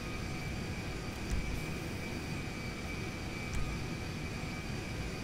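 An airplane in GTA 5 revving for takeoff, a steady broadband engine roar with a thin high whine, constant and close, with faint clicks.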